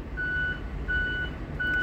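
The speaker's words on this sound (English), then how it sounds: "There's a bus backing up." School bus reversing while backing up at a CNG refueling station, giving three evenly spaced steady high beeps over a constant low engine rumble, moderately distant.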